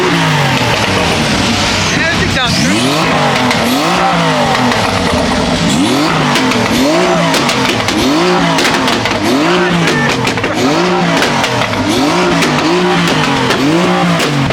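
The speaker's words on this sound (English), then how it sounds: "I think that R8 might be louder than mine, guys. It's really loud." A loud Audi R8 sports car engine revving repeatedly, with rising and falling pitch sweeps from a nearby engine, while people talk over it.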